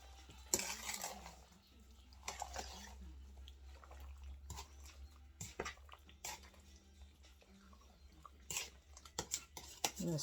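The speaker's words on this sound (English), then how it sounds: "I'm going to get a big spoon and I'm just going to gently stir it" A big spoon stirs peach pie filling in a bowl, giving soft wet squelches and scattered clinks of metal against the dish, fairly close and irregular, with faint dripping between strokes.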